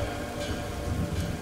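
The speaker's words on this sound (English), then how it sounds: "Bloody rain? Bloody rain." Steady rain falls in the Ten Bells horror video game, set in a bar, as an even wash of close, continuous patter over a low rumble that lasts throughout.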